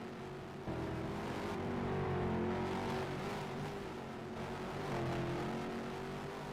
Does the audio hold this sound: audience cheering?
no